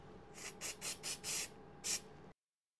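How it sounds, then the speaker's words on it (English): An aerosol activator sprayed onto CA super glue (cyanoacrylate) for bonding a 3D-printed ABS part, heard as five or six short hissing bursts close up, the last one separated by a brief pause. "This is just CA glue, otherwise known as super glue, or cyanoacrylate, that I can spray an activator."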